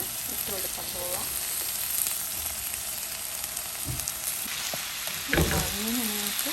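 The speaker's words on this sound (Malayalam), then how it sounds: "കുറച്ച് കറിവേപ്പിലയും കൂടി ഇതിനകത്തിട്ടിട്ട് ഒന്ന് വാട്ടിയെടുക്കാം" Curry leaves sizzling and frying in hot oil in a pan for a Kerala raw mango curry, a steady close crackle with a few stirring scrapes and light clinks.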